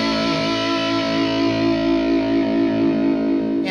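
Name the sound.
guitar distortion pedal boosted by a boost pedal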